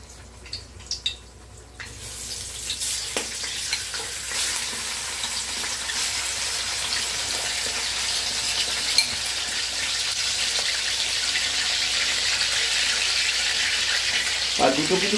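Fried rice ingredients frying in white cooking oil in a pan, a steady close sizzle with occasional stirring clatter that builds after a quieter start and continues to the end.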